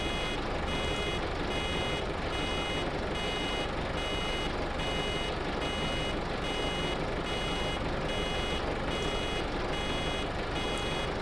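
A baler's warning beeper in the video game Farming Simulator 15 repeats a steady, even beep without pause, loud and continuous under a constant mechanical drone.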